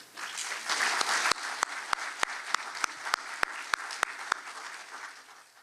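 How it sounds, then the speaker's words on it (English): An audience at a scholarship award ceremony breaks into applause, a dense wash of clapping that rises within the first second and carries on steadily, with a series of loud, evenly spaced sharp cracks cutting through. "can we give a big round of applause for Long Nguyen and Kimmy Duong?"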